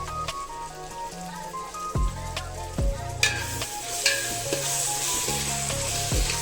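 Vegetables and masala sizzle and fry in a pan for pulav, a loud steady crackle close up, with a few knocks of a spoon or ladle stirring against the pan.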